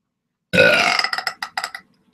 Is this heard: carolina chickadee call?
no